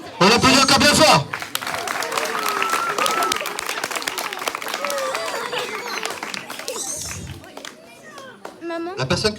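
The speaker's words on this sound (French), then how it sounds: "On applaudit encore bien fort." Loud audience applause bursts out during a live stage hypnosis show, then fades under ongoing speech and crowd murmur before another short round of clapping swells at the end.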